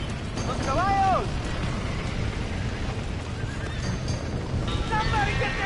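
Trapped horses whinny shrilly inside a burning barn in the Red Dead Redemption video game, two distinct neighs rising over a constant roaring, crackling fire bed, with faint hoof clatter beneath.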